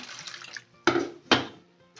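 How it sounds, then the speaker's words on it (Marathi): Water splashes and sloshes in two distinct bursts as wheat grains are rinsed by hand in a bowl, with quieter trickling between them. "आता आपण यांना दोन तीन पाण्याने धुवून घेऊ"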